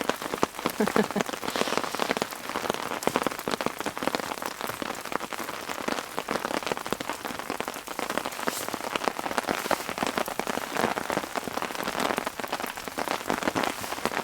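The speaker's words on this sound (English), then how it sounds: "I think we're supposed to have consistent rain like this though right through till about 10 p.m." Heavy rain drums steadily on a tent at a campsite, a dense, unbroken patter of drops close overhead that holds at the same loud level throughout with no voices.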